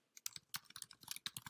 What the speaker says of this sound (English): and then continue typing